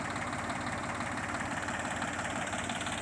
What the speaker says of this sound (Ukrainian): Петька сьогодні працює, такий міжрядний культиватор